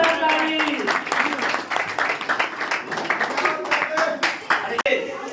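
An audience at a quiz contest event breaks into loud, sustained applause close by, many hands clapping steadily for several seconds with voices mixed in beneath.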